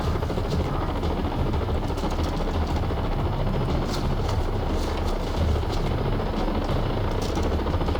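Aircraft engine in the Far Cry 3 shooter, a dense, steady roar filling the whole stretch at constant loudness, broadband and unbroken, with no voice over it.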